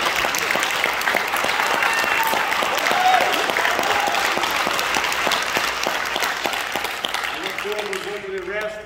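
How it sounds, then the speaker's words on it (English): Audience applause for a high school NJROTC drill team at an award ceremony, loud sustained clapping with audible individual claps, fading near the end as a voice begins to speak. "So give them a round of applause for the team."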